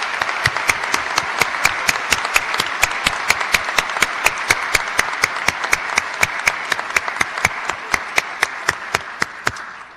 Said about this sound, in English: Please join me in applauding these award winners and the entire faculty for their commitment